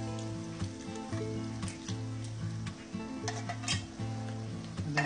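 Onions and a can of spicy Rotel tomatoes saute in a pot for catfish sauce piquante, a steady close sizzle with occasional utensil clinks over a repeating tonal hum.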